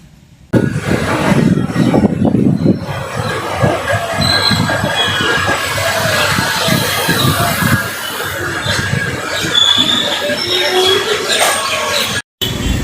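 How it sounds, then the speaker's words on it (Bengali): A local passenger train between New Jalpaiguri and Ambari Falakata runs on its rails with a loud, steady rumble and wheel squeal. The sound is continuous and close throughout. "দুটো ট্রেনের সঙ্গে ক্রসিং হলো"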